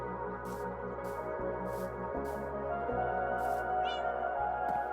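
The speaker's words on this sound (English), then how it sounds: "Yes, stupid kitty." A cat meowing in Minecraft, several short evenly spaced mews over a steady humming game background with a brief chirping effect near the end.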